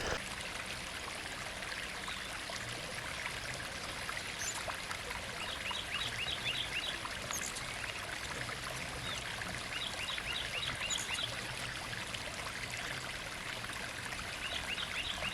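A small Central Texas creek runs steadily over rocks beside a campsite, a continuous close trickle and babble with faint high chirps scattered above it.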